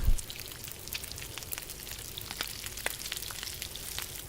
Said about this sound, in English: we'll cook up this piece of meat